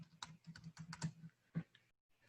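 Quiet, quick keystrokes on a computer keyboard, a rapid run of clicks followed by a brief pause and a few more taps.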